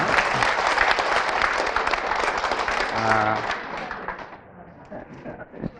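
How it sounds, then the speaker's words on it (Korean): An audience at a company gathering claps together in a dense burst that gradually thins and fades, with a brief voice or tone rising in the middle. "다시 한번 여러분을 위해서 박수 한번 치도록 하겠습니다"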